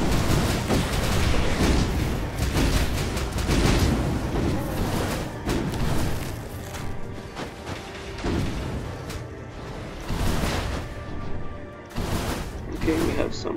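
Repeated booming explosions from the action game Skul, played on hard mode in the Dark Mirror level 7, crowd a dense, busy soundscape of game effects, with a voice talking over them.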